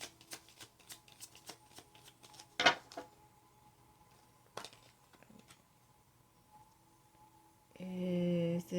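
Tarot cards are shuffled with many quick, soft papery flicks and riffles over about eight seconds, close and fairly quiet, closing with a brief louder tonal hum at the end.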